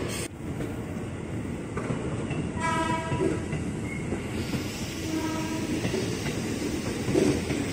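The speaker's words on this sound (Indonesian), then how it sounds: "Kapan lagi kita dapat momen jalur 1 komuter lainnya lewat sini nih, KRL." A KRL commuter train passes through Manggarai station, its rumble and clattering wheels loud and close, with a brief horn-like tone sounding midway through the pass.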